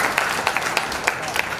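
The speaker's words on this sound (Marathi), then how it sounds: "वसुंधरासाठी एकदा जोरदार टाळ्या." An audience at a children's poetry gathering breaks into applause, a short burst of dense, fairly close hand claps with a few sharper individual claps standing out.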